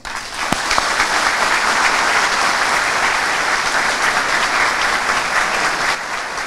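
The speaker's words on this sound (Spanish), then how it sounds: "Fuerte ese aplauso" Audience applause following a talk at a conference on penal populism held at a university in Higüey, a dense, steady roar of many hands clapping that holds loud and even throughout, with no voices over it.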